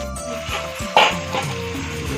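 Meat cooking down in a pot for kasha, sizzling and bubbling close by with occasional stirring scrapes and a sharp clink near the middle.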